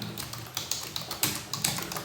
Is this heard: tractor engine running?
no